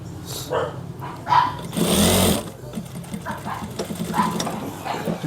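A tailor's sewing machine stitching the back pocket of a pair of pants, running in short whirring bursts with pauses between them, close up, while a voice speaks over it.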